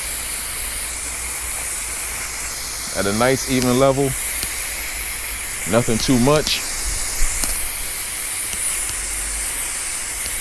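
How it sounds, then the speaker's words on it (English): A hose-end sprayer spraying Spectracide insecticide on a fence gives a steady, continuous hiss throughout, while someone speaks briefly twice over it. "But just spraying the fence here"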